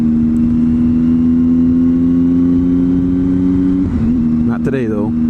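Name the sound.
Triumph Tiger 800cc motorcycle engine pulling away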